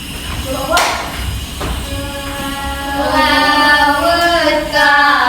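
A few hand pats on the thighs and claps sound in a classroom exercise, several dull thumps and sharper slaps spaced irregularly, close by, with a voice talking over them.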